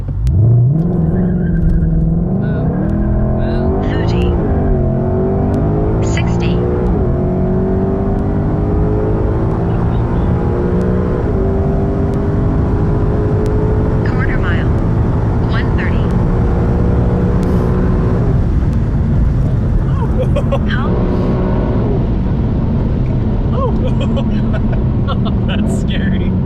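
A 2020 Shelby GT500 accelerates hard, its loud engine note climbing steadily in pitch and holding a strong roar for the whole stretch, with faint voices underneath.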